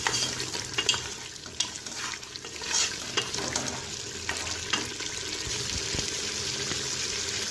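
Masala for mutton paya (goat trotters) sizzling and being stirred in a pan while its water dries off, with steady frying hiss and scattered scraping stir strokes throughout, fairly close and with no talk.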